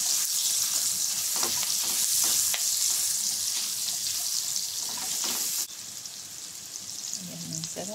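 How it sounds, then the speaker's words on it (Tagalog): Onions sautéing in a pan for a Filipino green bean and pork belly dish with shrimp paste, a loud, close, continuous frying hiss that drops slightly in level partway through, with a few utensil scrapes. "gigisa natin yung sibuyas"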